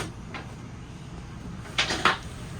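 A sliding knob latch on a cabinet in a 2024 Forest River Salem Hemisphere 308RL travel trailer is worked, giving two quick, close clicks near the end of a quiet stretch.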